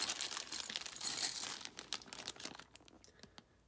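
Small plastic zip-top bag of light-fixture mounting hardware being handled, giving close, dense crinkling and rustling that peaks midway and then thins into a few sparse crackles.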